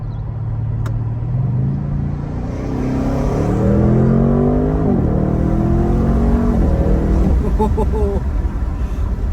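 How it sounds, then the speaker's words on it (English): A 2024 Audi RS6 Performance in dynamic mode drops a gear with a blip, then pulls hard and rises steadily in pitch, a deep rumbling acceleration heard from inside the car. "Put into dynamic. Oh, I can just do it right there. Drop a gear."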